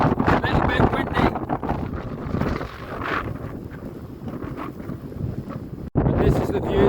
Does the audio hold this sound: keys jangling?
no